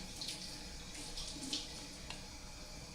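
Water runs steadily from a tap into an Instant Pot pressure cooker for about three seconds, a faint continuous splashing hiss with a few small spikes and no talking.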